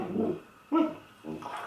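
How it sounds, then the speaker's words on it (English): A dog makes a few short whimpering, yipping noises in quick bursts, close and moderately loud. "So, dog noises."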